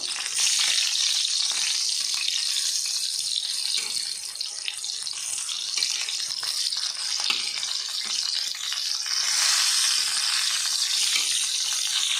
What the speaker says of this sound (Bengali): এই পিঠটা 1 মিনিট ভেজে আমি পটলগুলোকে তুলে নিচ্ছি